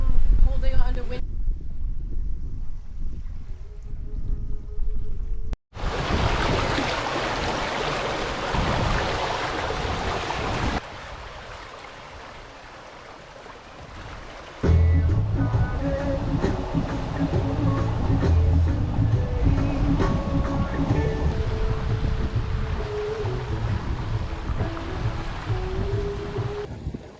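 Wind buffets a sailing boat under mountain gusts, with rushing air, microphone wind noise and water washing around the hull, loud and continuous with changing intensity; people talk over it at times.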